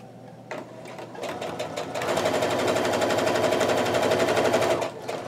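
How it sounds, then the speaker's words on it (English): A sewing machine stitches a quarter-inch quilt seam, starting with a few slow stitches then running at a fast, steady rattling pace up close before easing off at the end. "we're just gonna put this in our sewing machine. We're gonna sew our quarter inch seam"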